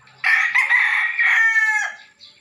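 A large rooster crows once, loud and close, a long strained call that trails off at the end.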